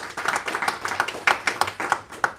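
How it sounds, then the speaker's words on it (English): Applause at a solar energy day event, a small group clapping in a quick, uneven rhythm with individual hand claps standing out clearly, moderately loud and close. "A big applause for ISES."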